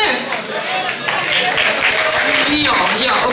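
An audience at a gala applauds and cheers, a dense, loud wash of clapping with voices mixed in, sustained for a few seconds.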